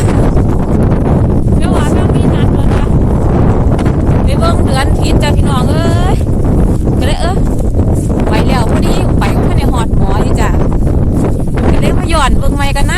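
A strong storm wind in Germany batters the microphone with continuous loud roaring gusts through the whole clip, while someone talks underneath the buffeting.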